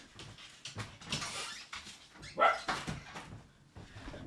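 A dog whimpers and gives a few short yips and barks close by, mixed with a brief person's voice and household movement as it is let outside.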